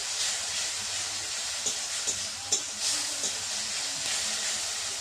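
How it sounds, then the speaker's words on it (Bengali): A moderate, steady sizzle of chilies and spice paste after water is added, with soft scraping and knocks from stirring scattered through it and no voices. "একটু জল দিয়ে দিলাম, দিয়ে আমি লঙ্কাটাকে একটু নেড়ে নিচ্ছি"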